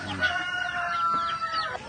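Chickens clucking and calling on a farm at feeding time, with Black Australorp and native hens among them; a busy overlapping chorus of clucks and squawks, fairly close, with no talking.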